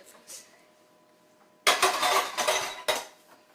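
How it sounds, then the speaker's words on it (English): Loaf pans for homemade sandwich bread being picked up and handled, giving a sudden clattering rattle of pans knocking together after a quiet pause, followed by a second shorter clank. "so I'm going to grab my loaf pans"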